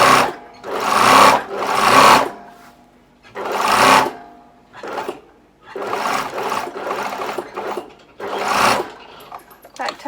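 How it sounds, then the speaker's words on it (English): Sewing machine stitching a fabric seam in repeated bursts, a close, loud mechanical whir that starts and stops several times with short quiet pauses between runs. "I'm just going to sew down that far and then stop"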